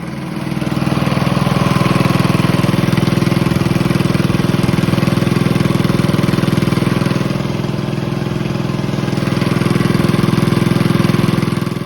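A Farmall tractor fitted with a Honda engine runs loud and close with a steady, even mid-pitched drone that holds for about eleven seconds after a brief start, with no talking.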